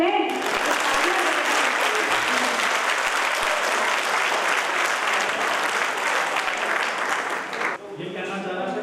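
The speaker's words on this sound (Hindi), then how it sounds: "आपके दो हाथों की तालियां ही तो है।" A crowd at a large poetry gathering bursts into loud, sustained applause for the poets. The thick clapping continues for about eight seconds before it cuts off and a voice returns.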